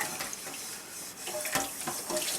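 Water runs from a kitchen tap while a rusty carbon steel or cast iron pan is being cleaned, a close, steady splashing stream with small spatters and no voices.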